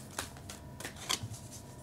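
Tarot cards are shuffled by hand during a reading, a quick series of soft papery riffles and flicks close to the microphone, with no talking.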